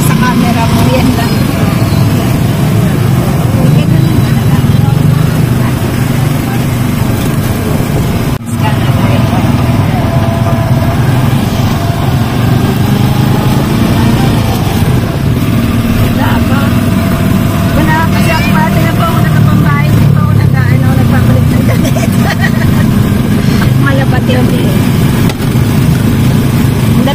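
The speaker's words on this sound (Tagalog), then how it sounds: "Pero mas malakas ang sound ng motor." A motorcycle engine runs continuously with a steady low rumble and fluctuating rev, heard close and loud throughout, with people talking over it.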